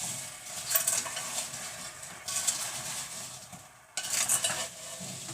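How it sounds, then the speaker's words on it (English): Ground cinnamon stirred into apple pie filling in a pan, with a steady soft scraping and swishing of a spoon, a few louder sweeps, close and quiet with no talk. "And we're just going to stir this in really well."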